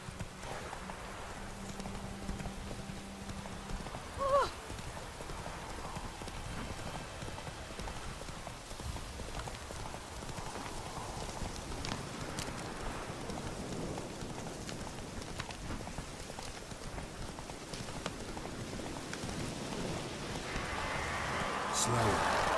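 Horse galloping in the Witcher 3 video game, a continuous muffled clip-clop of hooves at a steady pace under rain-like ambience, faint and even throughout.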